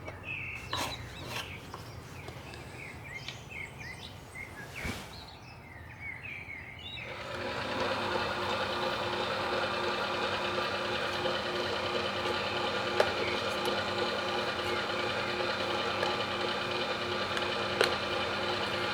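A No.8 El Young mincer pushing seasoned sausage meat through a nozzle fitted with skin: a steady mechanical whirring hum with a gentle, even drone starting partway through, after quieter handling noises and a sharp knock.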